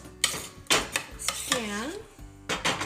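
Cooked polenta scraped and spooned from a pot into a pan, with several distinct clattering scrapes and knocks of utensils against cookware, close up, and a short stretch of speaking voice in between.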